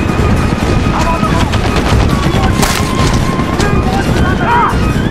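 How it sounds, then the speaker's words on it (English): Automatic machine gun fire in the PS3 third-person shooter SOCOM 4 U.S. Navy SEALs, dense bursts of rapid shots over a constant loud battle din, with faint voice chatter underneath. "They're deploying machine guns, sir."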